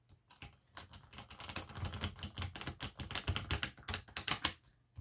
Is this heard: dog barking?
no